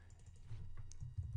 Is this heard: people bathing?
no